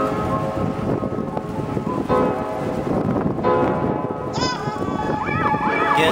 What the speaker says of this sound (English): Again, sorry for all the wind.